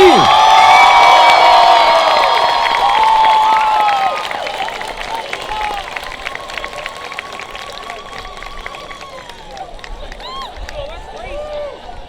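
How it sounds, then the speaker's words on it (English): A crowd at the Melbourne High School class of 2019 graduation cheers and applauds loudly, with whoops and shouts over broadband clapping that eases slightly after four seconds but carries on throughout. "Can we have one more round of applause for the class of 2019?"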